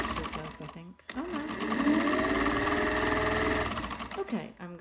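A sewing machine stitching the sleeves of a child's raglan top. After a brief start and a pause, it runs in one steady, rapid, close whirring burst that lasts a few seconds before stopping.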